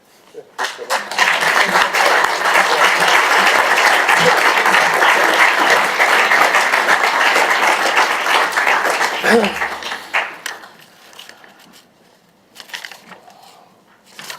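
Sustained applause from a crowd at a Basingstoke council meeting, loud and dense for about ten seconds, then thinning to scattered claps and fading out.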